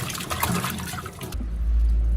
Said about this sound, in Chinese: 现在上面的泥沙基本上已经清洗干净了，我们将它控水